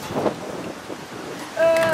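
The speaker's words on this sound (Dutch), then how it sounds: "Wat waait het? Hard." Strong wind buffets the microphone outdoors, a steady rumbling gust that swells louder near the end, with a faint tonal whistle riding on top.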